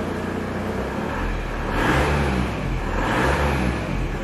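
A van engine with its exhaust valve closed idles loudly up close, then rises in two short revs over a steady, muffled droning rumble.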